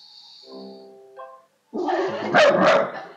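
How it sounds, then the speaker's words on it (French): A dog gives a couple of loud, close, harsh barks right after quieter electronic tones from a small portable speaker being switched on. "il y a mon chien qui se fâche"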